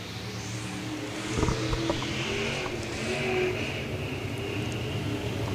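Race cars circle a dirt speedway at Central Missouri Speedway during a caution, their engines a steady, moderately distant roar with a few sharper bursts of throttle.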